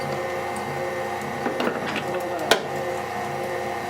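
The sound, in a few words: meat grinder grinding deer meat for sausage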